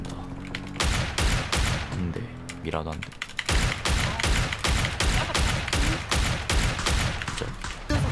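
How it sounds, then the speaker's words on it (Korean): Rapid, loud bursts of gunfire in the video game PUBG crack out in quick repeated volleys nearly throughout, with players shouting and talking over the shots. "총소리 나온다"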